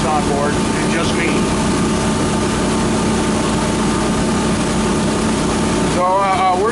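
A Volvo Penta 8.1 boat engine on a lightly loaded boat holds near 3,200 RPM in a loud, continuous, steady drone with wind rush. A brief tonal chirp sounds near the end, and there is no talk.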